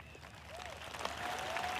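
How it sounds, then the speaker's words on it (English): Audience at a live celebration event at the Isha Yoga Center breaks into applause, a broad wash of clapping that swells and grows louder over a couple of seconds, with faint voices mixed in. "No, don't clap your hands"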